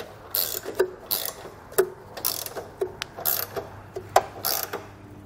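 A 19 mm socket on a ratchet snugs the bolts of a Draw-Tite Max-Frame trailer hitch on a 2015 Honda Odyssey, giving close, crisp clicking bursts in short irregular runs with brief pauses between them.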